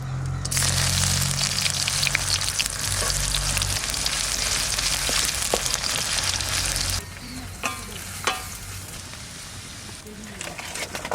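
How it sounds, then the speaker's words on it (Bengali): Cumin seeds, bay leaf and dried red chillies hit hot oil for tempering, giving a loud, hissing sizzle that starts abruptly, holds strong, then eases to a quieter crackle with a few sharp pops near the end. "ফোড়ন দেবো জিরে, তেজপাতা আর শুকনো লঙ্কা।"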